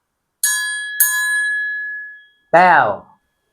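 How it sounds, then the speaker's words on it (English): A small bell rings twice, bright and clear, each ring lingering and fading; a voice follows briefly afterward. "第二種係小鈴聲 bell。"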